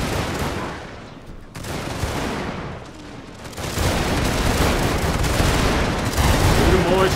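Dense, continuous battle gunfire from Total War Victoria's Boxer Rebellion fight, volleys and rattling shots crowding together with booming blasts, loud and unbroken throughout, swelling heavier in the second half.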